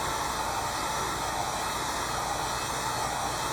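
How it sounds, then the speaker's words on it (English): A heat gun blows a steady, loud, close broadband hiss of hot air, unbroken throughout, as it warms a wooden dowel to straighten it. "I'm going to heat it up and straighten it. I'm using a heat gun"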